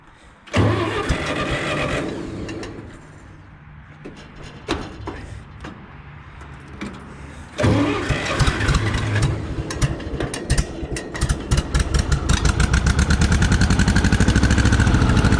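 An old tractor engine cranks and sputters with a few short bursts, then catches and settles into a loud, steady idle with rapid mechanical knocking, close up and without talk.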